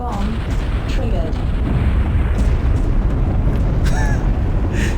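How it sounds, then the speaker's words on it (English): A bomb explosion in the video game Urban Assault: a continuous, heavy, rumbling blast roar holding steady at loud level throughout, with faint tonal game chirps and a voice speaking over it. "Bomb triggered."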